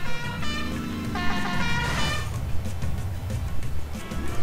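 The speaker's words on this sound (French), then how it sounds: "J'adore le klaxon." A car horn in The Simpsons Hit and Run video game sounds in repeated honks over a steady engine hum, with a rising and falling tone mid-clip and shorter toots after.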